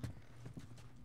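Horse hooves clip-clopping in The Last of Us Remastered, a short run of quick, moderately faint hoofbeats in an even rhythm.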